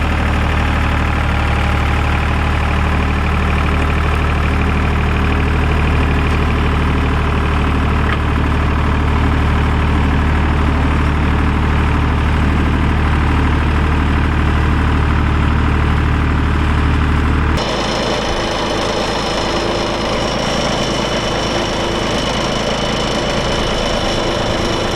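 A tractor pulls a subsoiler through a notoriously wet field, with a loud, continuous engine drone throughout. Partway through, the tone drops and roughens as the load changes.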